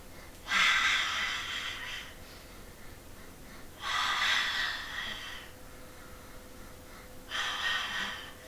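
Pilates breathing: three long, loud, breathy exhalations through the mouth about every three seconds, each lasting over a second, with quieter inhales in between, close to the microphone.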